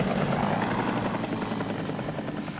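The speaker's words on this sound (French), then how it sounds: "c'est mon hélico privé" A helicopter flies close by, its rotor thumping in a fast, steady pulse over a loud engine drone that eases slightly as it passes.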